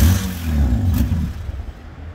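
A Toyota Avalon engine revving hard with the pedal floored, a loud low roar that holds for about a second and a half and then dies away quickly.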